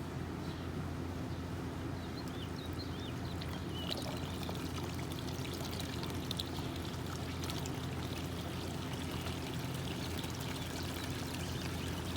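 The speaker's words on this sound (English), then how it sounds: "I decided to test out the waterfall" Water pours and splashes continuously down a pond spillway waterfall in a steady rushing wash, spilling over rocks, with no voices.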